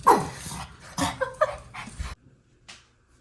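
Dogs bark and yip in a few quick, loud bursts close by, then a brief lull and one fainter yelp.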